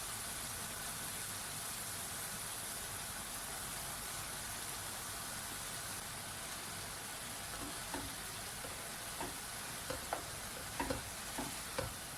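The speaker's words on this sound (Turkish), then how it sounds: "Kavrulan kıyma harcımızı soğanlarımızı ilave ediyoruz." Minced meat and onions for içli köfte sizzle steadily in a pan, a loud continuous frying hiss with a few stirring scrapes toward the end, no talk.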